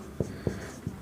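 Chalk or marker strokes on a board in a chemistry lesson, three short scratchy taps spaced evenly across a second, close and clear over a faint room hiss.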